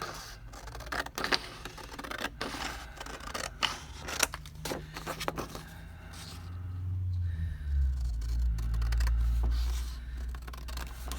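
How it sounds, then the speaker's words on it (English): Scissors snip and scrape through a sheet of printed paper from a digital craft kit, a run of close, irregular cuts in a quiet room, followed by a low rumbling handling noise near the end. "See if I can cut in a straight line now."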